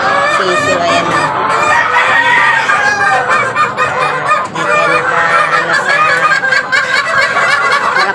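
A dense flock of chickens and growing chicks at feeding time, loud and close, with overlapping clucks, cheeps and squawks running continuously, and a voice faintly underneath.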